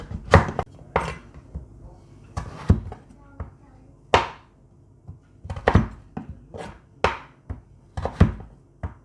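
Knife blade chopping through firm peeled pumpkin on a board, a dozen or so sharp irregular thunks, close and fairly loud, with faint background murmur.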